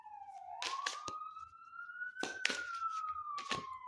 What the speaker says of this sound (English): You hear them sirens?